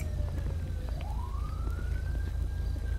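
A police car siren wails in a roleplay video game, one rising tone sweeping upward over a heavy low engine rumble, moderately near and steady, with no talk over it.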